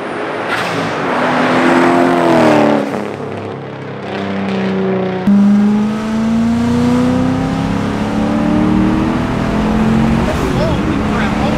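A turbocharged 2006 Ford Mustang GT engine revving loudly and repeatedly, rising and falling in pitch with a turbo whine, close by, with a person talking.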